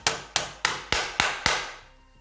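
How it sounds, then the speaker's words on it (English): Six sharp, evenly spaced hammer taps drive a split pin into a Sumatra 5.5mm air rifle during a 500 cc Magnum upgrade, each strike close and crisp with a short ringing decay. "we want to take the split pin. So now we want to just tap this. Tap this in."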